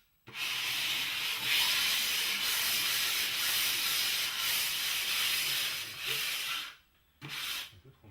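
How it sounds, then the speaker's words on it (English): A trowel drags adhesive across a subfloor while vinyl flooring is being laid, giving a steady close scraping rasp that runs almost without a break, then stops briefly and resumes for a short final pass. "apply adhesive to subfloor"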